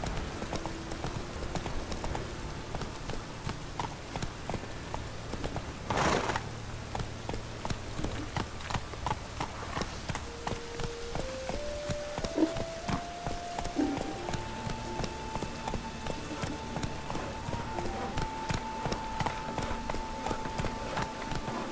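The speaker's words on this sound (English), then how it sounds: "Come on, Roach. Giddy up" A horse's hooves clip-clop at a steady trot in The Witcher 3, a continuous rhythmic beat of hoofbeats under in-game music, with a brief rider's voice over it.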